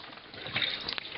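Water gushing and splashing as it drains out of the sink holding tank on an old 1977 C&C 24-foot sailboat, starting quietly and rising to a steady nearby pour with a few sharper splashes.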